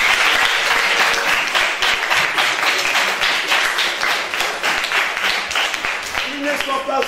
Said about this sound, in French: Et également applaudi papa Moni.